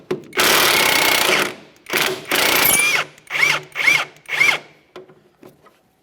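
A power impact tool whirs loudly in several bursts, a long run then shorter pulses, loosening a 17mm bolt on the rear shock of a 2010–2013 Kia Forte Koup, ending in quieter clicks.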